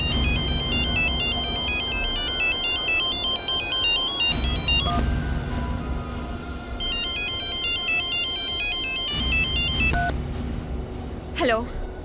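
A telephone ringtone plays a repeating electronic melody in loud bursts, pausing briefly between rings, with musical sounds underneath.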